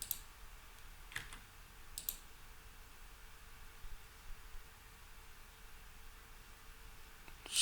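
A computer mouse clicks a handful of times, faint and sparse, against a quiet room hiss.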